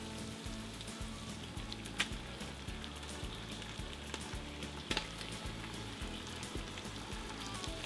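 Meat, in this case chicken, sizzling in a cast-iron potjie pot over soft browned onions, a steady bubbling hiss with rhythmic stirring scrapes and occasional sharp clinks, fairly quiet and close.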